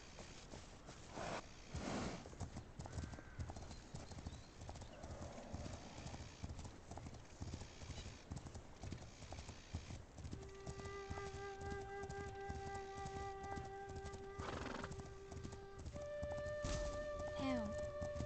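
Steady horse hooves clip-clop throughout from a short horse in a video game, with a brief whinny, set against game background music and ambient noise.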